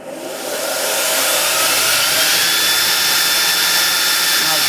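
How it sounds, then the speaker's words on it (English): A surface grinder attachment starts up and runs, building within the first second into a loud, steady broadband whir that holds without a break. "Alright, I'm going to turn the grinder on."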